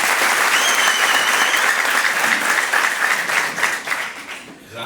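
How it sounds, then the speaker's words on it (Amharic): Dense, loud applause from an audience at a company distributors' gathering, a steady wash of many hands clapping together that thins and dips slightly near the end. "ለራሳችሁ ሞቅ ያለ ጭብጨባ።"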